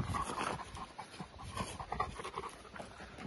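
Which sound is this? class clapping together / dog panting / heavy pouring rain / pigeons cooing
dog panting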